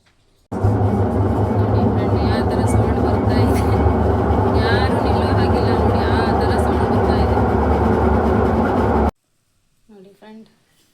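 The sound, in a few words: washing machine making a loud abnormal noise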